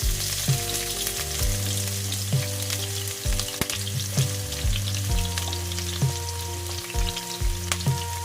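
Garlic fries in a pan with a close, crackling sizzle, punctuated by several sharp utensil knocks and scrapes over a low hum.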